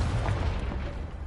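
A Confringo spell explosion in Hogwarts Legacy, a loud sustained booming rumble that fills the whole short moment with broad noise and no clear separate hits.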